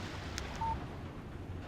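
A short electronic beep of a phone text message alert in Alan Wake, one brief clean tone sounding faintly over quiet low background ambience, preceded by a soft click.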